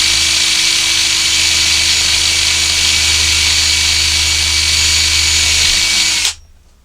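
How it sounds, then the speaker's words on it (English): A power drill with a dulling bit whines steadily while boring into 3D printed plastic on an arcade cabinet build, loud and close, running for about six seconds before stopping abruptly. "I think this drill bit's getting dull if it's having trouble even going through plastic"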